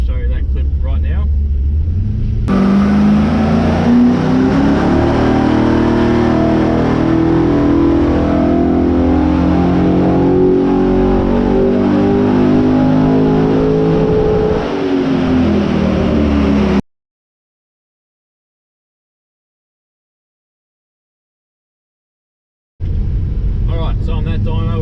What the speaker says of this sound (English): I ran this up on that dyno just to get a good baseline